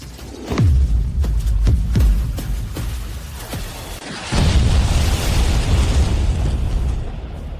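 Animated bomb shells burst in a series of deep booms, several sharp blasts with rumbling decay early on, then a sustained roaring eruption that fills the rest, loud and close with no talk.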